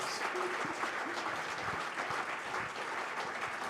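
Audience applause at the Active Essex Sports Awards 2015 ceremony, a dense, steady wash of many hands clapping that holds evenly throughout, with faint voices mixed in.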